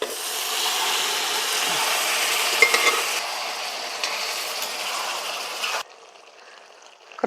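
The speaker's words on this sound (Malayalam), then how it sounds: "പിന്നെയും നമ്മുടെ ബീഫ് അങ്ങോട്ട് തട്ടിക്കൊടുക്കാം" Beef sizzles loudly in a pan with ginger-garlic and green chilli paste and curry leaves, a steady broadband hiss with a few stirring scrapes, dropping to a quieter simmer near the end.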